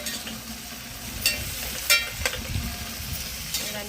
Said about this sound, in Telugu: చూడండి, ఎర్రగడ్డలు అయితే వేగినాయి.